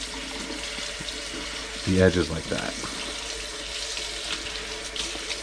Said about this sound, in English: You want to take the rest in your sink, just run it under cold water and separate